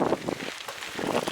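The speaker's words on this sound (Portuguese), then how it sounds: "Acho que é só vento forte." Strong wind gusts buffeting the microphone on a bike trail, a low, rough rumbling rush that swells and dips over a second or so, with no voices.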